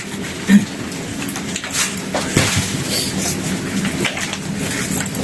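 Rain falling over an outdoor spot with a shelter nearby, a soft steady patter and hiss with a few louder knocks and drips, fairly close and without speech.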